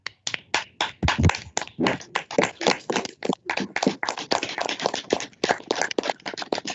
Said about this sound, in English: Can we give the Honorable Speaker an applause?